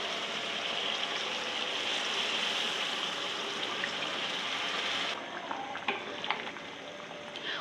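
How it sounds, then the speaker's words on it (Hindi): Water is poured into a hot cooking pot of aloo matar qeema to make gravy, giving a steady loud hiss and sizzle for about five seconds. Softer bubbling and clinks follow. "अभी इसमें मैं मज़ीद पानी डाल दूँ थोड़ी ग्रेवी बनाने के लिए।"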